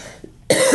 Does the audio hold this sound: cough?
yes